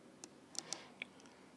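Typing on a Sonix keyboard running QMK firmware produces a few faint, scattered key clicks, sparse and irregular against a quiet room.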